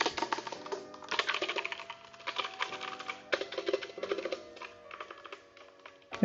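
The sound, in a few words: typing on Kreo Hive mechanical keyboard with brown switches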